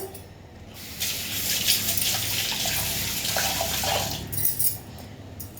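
Tap water runs steadily and loudly while a comb is washed under it in a sink, the splashing stream shifting in intensity as the comb moves, with no talk.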